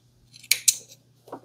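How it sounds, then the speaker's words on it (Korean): Thread snips cutting loose threads from a sewn fabric tea coaster, two crisp close snips in quick succession followed by a fainter third click, with a steady low hum beneath. "이렇게 쪽가위로 뜯는 시간도 있고요."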